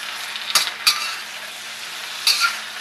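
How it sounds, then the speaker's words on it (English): A stir fry sizzles steadily in a hot pan as soy sauce goes in. A utensil scrapes and stirs through it in a few distinct strokes, close and fairly loud, with no talking. "Now you're going to add your soy sauce throughout the pan. This is going to add a lot of flavor to your"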